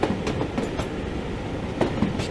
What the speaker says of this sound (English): Hear the clickety-clack of the carriages.